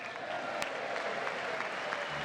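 A crowd applauds the Second Lady at the State of the Union, a steady wash of clapping from many hands heard at some distance throughout.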